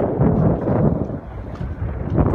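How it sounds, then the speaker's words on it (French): Strong gusty wind buffets a Merry Fisher 1095 motorboat lying at anchor, a loud continuous low roar with surging blasts against the microphone throughout. "Le vent est vraiment fort."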